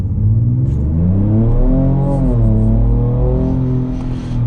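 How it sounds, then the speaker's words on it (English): A 2024 Ford Ranger Raptor launches hard and accelerates, heard from inside as a loud, close engine roar that climbs in pitch through gear changes with a steady deep rumble underneath. "It just launches off the line like you wouldn't believe."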